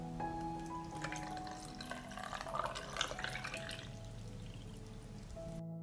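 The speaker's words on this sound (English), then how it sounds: "I fill the jars with water to cover the tomatoes." Water poured into canning jars packed with tomatoes, salt and vinegar, in a steady splashing trickle close by, with faint dripping toward the end.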